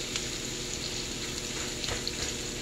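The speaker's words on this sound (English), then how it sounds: "Got the bacon going, we got the burgers going" Turkey bacon and seasoned burgers sizzling together in a pan, a low steady crackle with a few faint pops, continuous and fairly quiet.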